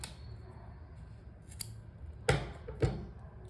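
Scissors snipping crochet yarn, a couple of crisp, close cuts after faint handling noise, quiet and alone against a low background.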